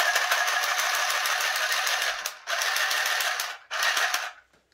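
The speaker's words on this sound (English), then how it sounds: "try to sew four layers of fabric" A cheap budget sewing machine stitches through four layers of fabric with a rapid, steady mechanical chatter, running continuously and then in two short bursts with brief pauses between.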